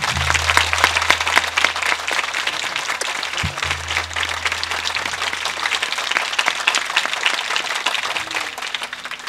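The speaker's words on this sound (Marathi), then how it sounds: "सर्वांनी एकदा जोरदार टाळ्या वाजवा, फक्त टाळ्याच." Loud applause from a kirtan audience fills the whole stretch, dense and steady hand clapping from a large crowd, with a low sustained hum running beneath it.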